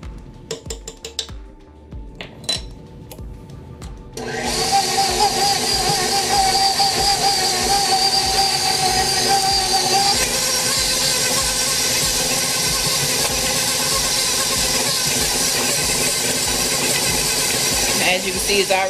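An electric mixer whips buttercream frosting with milk added a tablespoon at a time, starting abruptly and running as a steady, loud whirring drone that continues to the end, with a few knocks and clatters just before it starts.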